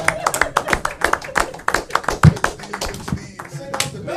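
Hands clap in a quick rhythmic run of sharp, close claps, with a voice talking over them.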